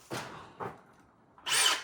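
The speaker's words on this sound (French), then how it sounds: "Ah bah il y a une perceuse là-bas." A Milwaukee power drill whirs in three short bursts, two brief revs followed by a louder, harsher spin, each stopping abruptly, with no talk over it.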